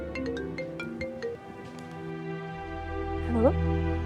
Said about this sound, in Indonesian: Gue angkat telepon bentar ya.